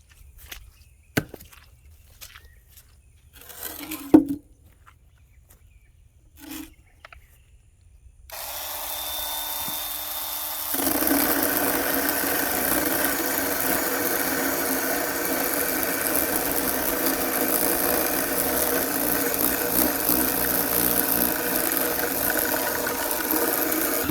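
A Ryobi 18V battery chainsaw with a 10-inch bar cuts into a rotting but solid 4x4 post: a few scattered knocks and taps, then the motor whirs on and settles into a loud, continuous cutting drone for the rest of the clip.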